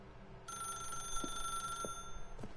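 A telephone in The Stanley Parable rings with a steady electronic bell tone, sounding once for over a second before cutting off, with faint ambient noise and soft knocks underneath.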